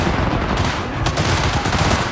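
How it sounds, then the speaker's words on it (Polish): Sustained gunfire exchange in the video game Cyberpunk 2077, dense overlapping automatic shots firing continuously and loudly throughout, with no talk. "Wymiana ognia!"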